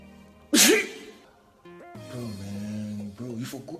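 A loud, close sneeze explodes at the start, followed by someone talking, with a second softer breathy burst near the end.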